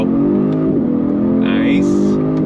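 A 2023 Genesis G70 engine revs hard and climbs in pitch as it accelerates from first gear through the gears, loud and close, with a brief shift dip partway.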